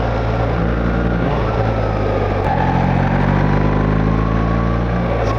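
A BMW XM with an automatic transmission accelerates on a test drive, its engine droning loud and close from inside the cabin as the pitch climbs and drops through several gear shifts.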